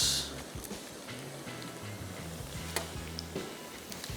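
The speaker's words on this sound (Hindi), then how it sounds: "थोड़ा सा इसको और फ्राई कर लेते हैं" A fish patty for a fish burger sizzles steadily in a frying pan, a soft continuous crackle with faint scraping and ticking as it gets turned, heard alone without talk.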